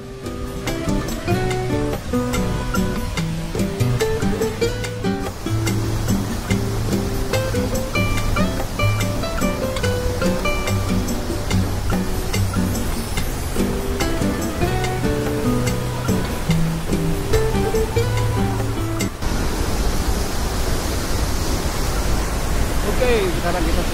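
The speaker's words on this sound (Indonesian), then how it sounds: "Dan suara airnya tuh kayak white noise alami" Curug Bugbrug waterfall rushes steadily in a forest setting near Parongpong, a continuous broadband roar like white noise. Music plays over it throughout.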